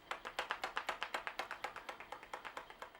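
A Rimmel Volume Shake mascara tube is shaken close up, giving a quick, even run of about twenty rattling taps over a few seconds, fairly quiet and with no speech.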